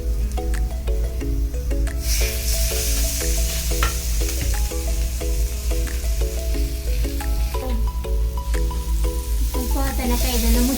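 Fish sizzles and crackles steadily as it fries in oil on a tawa, with a continuous close hiss and light stirring, and a melody plays over it throughout.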